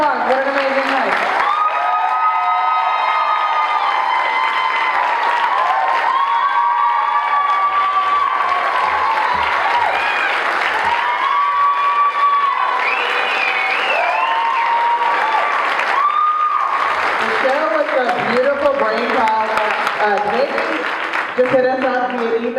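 Sustained crowd noise at a live evening event after two organisers are welcomed to the stage, clapping mixed with strong tonal shouting and cheering voices that swell and dip, loud and continuous for over twenty seconds.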